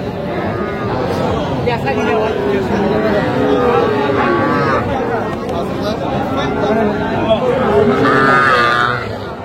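Cattle moo repeatedly amid a noisy crowd at a livestock market in Tangail selling young bulls and heifer calves, with people talking loudly throughout and animal calls rising above the chatter near the end.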